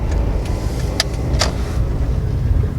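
Toyota 1ZZ-FE engine car driving on a back road, a steady loud cabin rumble of engine and road noise with a couple of brief sharp clicks or rattles.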